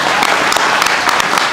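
A crowd at a ceremony claps in a brief, dense burst of applause, loud and even throughout with a few sharper individual claps standing out.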